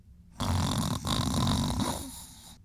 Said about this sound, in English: sounds like somebody's taking a nap